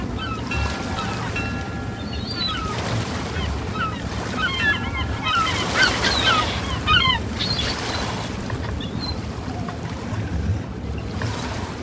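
Sea water rushes and splashes around a fast boat out on the ocean while its engine drones beneath, with chirpy animated or synthetic tones layered over the continuous wash.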